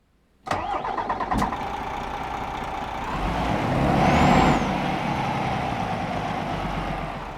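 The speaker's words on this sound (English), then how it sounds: "let's go ahead and get this DAF XD started up and get on the road" A large DAF XD truck diesel engine in Euro Truck Simulator 2 cranks and catches, settling into a steady rumbling idle, with a brief hiss of air partway through.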